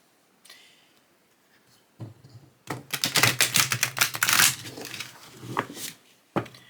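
Dense rapid riffling of stiff tarot cards, a quick burst of clicking flutter lasting a few seconds, close and fairly loud, with a couple of softer taps around it.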